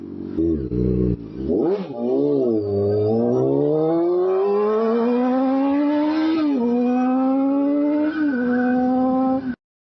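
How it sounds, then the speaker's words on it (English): A motorcycle engine bogs low as if about to stall, then recovers and climbs in a long, rising drone with small shifts, loud and close until it cuts off near the end. "I almost stalled right there. That's sad. This bike, for whatever reason, is pretty easy to stall."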